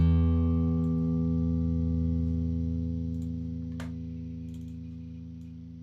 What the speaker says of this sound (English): A lot of reverb on there